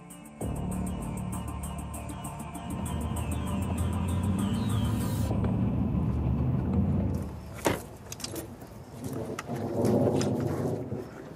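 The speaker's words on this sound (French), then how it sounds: "C'est le tonnerre là qu'on entend?" Thunder rumbles through a thunderstorm where a tornado may form, a long low roll with a sharp crack partway through, loud and close, with rain noise underneath and no voices.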